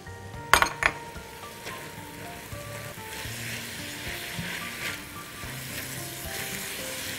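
Mushrooms hiss and sizzle in a pan alongside frying chicken, a steady close crackle with a couple of sharp utensil clinks early on.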